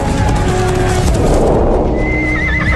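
A cavalry horse lets out a loud, shrill whinny over the steady, galloping clip-clop of hooves, with no voices.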